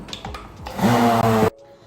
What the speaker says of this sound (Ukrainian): І зараз цю всю масу ми збиваємо блендером.